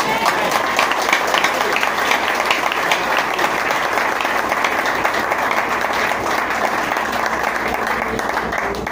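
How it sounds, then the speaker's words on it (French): A church congregation claps and cheers loudly and continuously, a dense wash of applause filling the room without pause, with voices blended into the crowd noise. "Acclamez la présence de Dieu plus fort"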